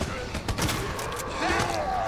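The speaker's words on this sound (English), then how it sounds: "Shotgun time." A shotgun fired in the Resident Evil 2 survival horror game: a couple of quick, heavy blasts near the start, followed by busy game noise with a voice faintly underneath.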